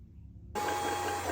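Sewing machine winding a bobbin, its motor starting abruptly after a quiet pause and then running at a steady, close, even whir.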